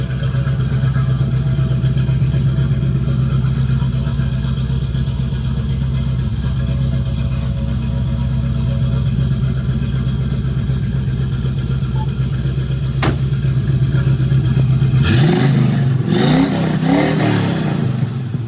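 A 1976 Chevrolet Camaro classic car engine idles with a deep, rumbling steady drone, then revs up sharply near the end, loud and close with no voices.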